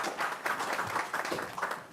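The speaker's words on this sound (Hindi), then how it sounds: "तालियां हो जाएं श्री खत्री जी." An audience applauds at an event marking Narendra Modi's 74th birthday, organised by the Centre for Narendra Modi Studies. Many hands clap in a dense, rippling wash that stays steady and moderately loud, with no speech.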